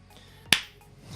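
A single sharp hand clap sounds in a tourism communication class, one crisp isolated crack in a quiet room with a short decay and no talk over it.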